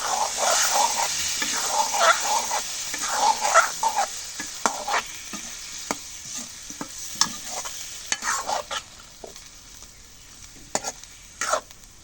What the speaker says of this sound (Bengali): মাছটা দিয়ে এখন কষানি করি